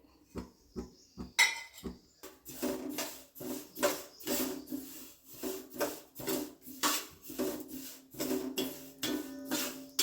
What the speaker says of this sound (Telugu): నువ్వులు కూడా వేయించుకొని తీసుకోవాలి